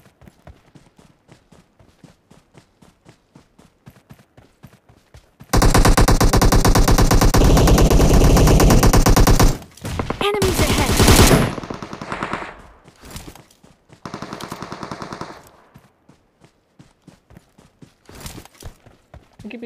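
Gunfire in the mobile battle royale game PUBG Mobile: sparse single shots, then a long, loud sustained machine-gun burst, followed by shorter rattling bursts and scattered shots.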